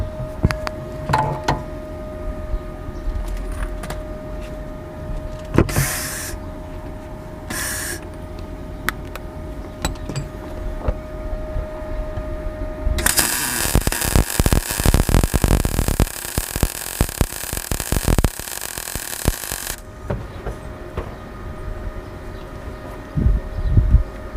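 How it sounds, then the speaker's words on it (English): Electric welding of metal drop links on a Mk2 Mazda MX-5 rear anti-roll bar: bursts of harsh crackling arc noise, with one long, loud, steady sizzle in the middle and shorter spurts around it, and no talking. "so let's weld this together"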